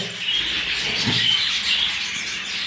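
Budgerigar chicks chirp and chatter in a busy, continuous layer of high twittering, fairly close, with one low thump partway through.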